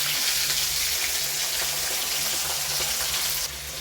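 Marinated chicken with curry leaves frying in hot oil, a steady close hiss and crackle of sizzling that holds evenly throughout, then dips slightly at the end.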